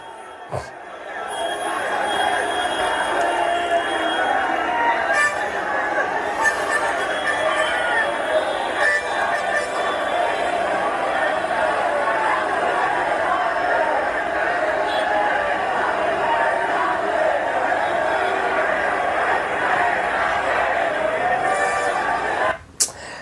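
A huge protest crowd surrounds the RSS headquarters, a dense continuous roar of many voices chattering and shouting at close range. The loud crowd noise holds steady throughout, with a few sharp knocks near the start and end.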